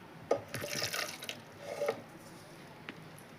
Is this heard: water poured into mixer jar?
yes